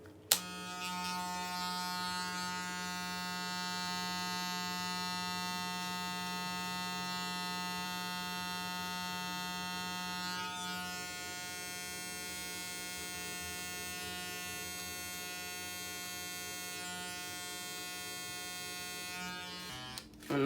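Electric hair clippers with the lever closed buzz steadily for about twenty seconds while cutting hair, a close, constant high-pitched hum that changes slightly in tone as they move, with no talking.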